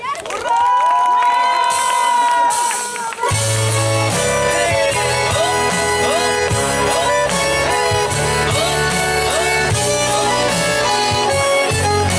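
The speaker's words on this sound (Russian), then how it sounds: "Он ждет ваших аплодисментов." An audience at a hunters' festival performance cheers and claps along under loud music. A short melodic phrase opens, then sustained band music with strong rhythm carries on over the crowd noise throughout.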